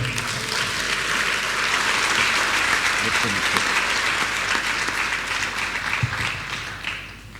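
Sustained applause from a large audience at a masterclass in Dakar, Senegal, steady dense clapping throughout that tapers slightly near the end.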